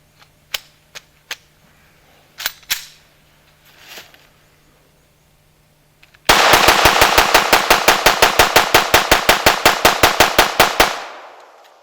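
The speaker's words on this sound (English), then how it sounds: "I'm going to shoot as fast as I can, see if I can get it to jam, see if I can get to malfunction." A Glock 21 Gen 4 .45 ACP pistol fires a few scattered shots, then unloads a long rapid string of around twenty loud, evenly spaced gunshots before falling silent.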